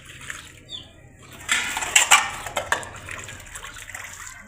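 Dishes being scrubbed under running hot tap water at a home sink, a steady splashing flow with scattered clinks and scrapes that swell in the middle, moderately close, with no talk.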